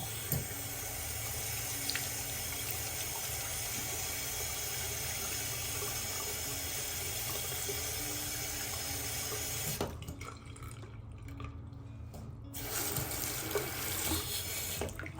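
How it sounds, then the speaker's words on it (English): Tap water runs steadily into a sink as wires and a chain dipped in liver of sulfur are rinsed, a continuous close splashing rush that briefly changes tone near the end as the flow is interrupted, no talk. "I'm going to take all those wires and the chain that I just dipped in the liver of sulfur, and I'm going to rinse them off"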